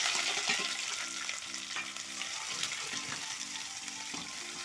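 Chopped shallots and crushed ginger sizzle steadily in hot oil for a homestyle Kerala fish curry, a continuous bright frying hiss with soft stirring scrapes and a faint hum running underneath.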